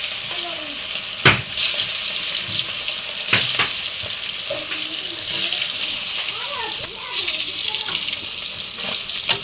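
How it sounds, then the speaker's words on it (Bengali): Small puti fish coated in turmeric and salt slide into hot oil in a wok, sending up a continuous hissing fry with occasional sharp clatters and scrapes as pieces are added. "এবার দিয়ে দেবো কড়াইতে মাছটা।"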